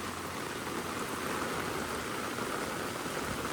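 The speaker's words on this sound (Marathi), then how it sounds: "पाऊस खूप पडतोय" Heavy monsoon rain pours down in Saygaon village, a dense, even hiss that holds steady at close range without a break or any voices.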